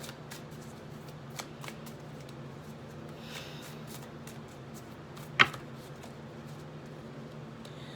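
Tarot cards being shuffled during a reading give a soft, continuous riffling and sliding for about eight seconds, with a single sharp tap or snap partway through, quiet and close with no voice.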